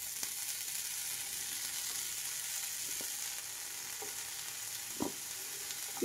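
Capsicum pieces frying in oil on a pan, laid out to roast while making a capsicum egg omelette; a steady soft sizzle throughout with a few brief clicks near the end, no voices.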